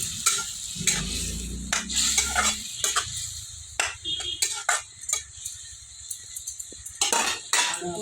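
Eggs frying in a spiced masala in a pan, with a low sizzle under stirring scrapes and a few clinks of utensil against metal, heard up close with brief soft background voice.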